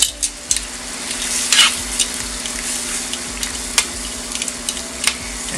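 Shrimp scampi sizzles and spatters in a pan with lemon juice, wine and parsley, a steady close frying hiss broken by sharp crackles and pops, with occasional stirring and no talk.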